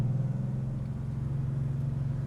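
Air-cooled Porsche 964 911 moving through a series of quick transitions, its engine a steady low rumble that stays close and even throughout, with no voices.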